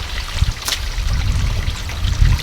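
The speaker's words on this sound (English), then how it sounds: "I'm just going to go ahead and grab these and literally just submerge them in the water." Water trickling and splashing as koi fish are lowered and submerged in a pond, with a steady close, loud sloshing and a few brief louder splashes.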